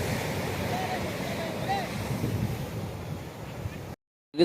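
Arabian Sea waves breaking over rocks along a Karnataka beach, a steady roaring wash of surf with wind buffeting the microphone throughout, cutting off abruptly near the end.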